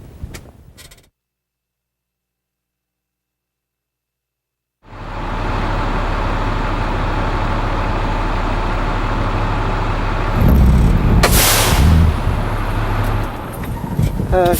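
An International Durastar truck drives around the block on a test drive, its engine droning steadily and loudly after a brief silence, rising and rattling with a louder surge near the end; talk can be heard briefly before the engine starts.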